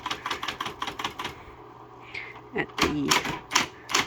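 A 1979 Smith-Corona Coronamatic electric typewriter clatters out a quick run of crisp key strikes, then a pause and a few heavier, slower mechanical clacks, close by, with someone talking briefly between them.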